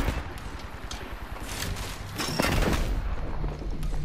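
Rapid gunfire and booming shots from an Apex Legends match on Storm Point fill the clip, dense and loud, with bursts layered over a constant rumble of game noise.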